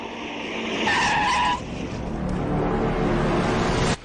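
A car skids as it gets stuck in a pothole on a village road, giving a loud, continuous tire-and-engine scrape with a squealing peak near the start that holds steady for about four seconds, then cuts off abruptly, with no talk.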